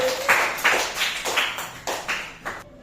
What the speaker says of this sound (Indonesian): Oke, tepuk tangan buat kelompok ini.